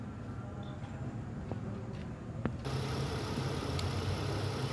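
A Nissan car engine with a P2127 fault code runs steadily after a rev, a close mid-to-low rumble that turns louder and fuller partway through, with no talking.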